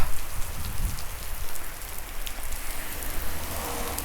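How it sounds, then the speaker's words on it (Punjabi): Steady rain falls near Ghanaur on a road ride, a dense continuous hiss of drops hitting surfaces, close and even throughout with no voices. "ਘਨੌਰ ਦੇ ਨੇੜੇ ਤੇ ਮੀਂਹ ਲੈ ਪਿਆ"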